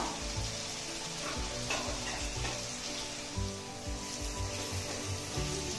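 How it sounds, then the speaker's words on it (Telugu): Capsicum and half-boiled carrot sizzle in a hot pan while being stirred, a continuous close frying hiss with soft scraping strokes. "ఇప్పుడు క్యాప్సికమ్ వేసిన వెంటనే ఇందాక హాఫ్ బాయిల్ చేసి పెట్టుకున్నాం కదా క్యారెట్, ఆ క్యారెట్ వేసి కలుపుకుందాం."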